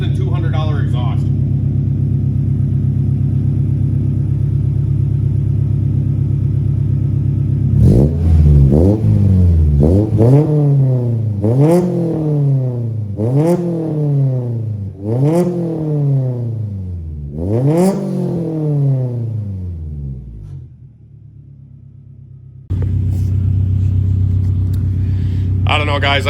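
Car engine fitted with a budget 3 inch exhaust bought for under $200, idling with a deep drone, then revved loudly about six times in rising-and-falling pulls before settling back to a low burble.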